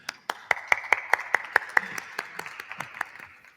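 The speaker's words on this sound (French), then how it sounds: "Merci Arnaud de la Fouchardière, on vous applaudit" At an agricultural startup conference, an audience gives a modest round of applause, with a dozen or so distinct claps that thin out toward the end, heard at moderate distance.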